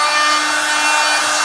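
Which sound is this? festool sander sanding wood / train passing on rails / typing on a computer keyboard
festool sander sanding wood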